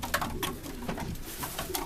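Young racing pigeons coo inside a loft, giving soft, throaty calls in short, repeated bursts over a low background hum, with no talk.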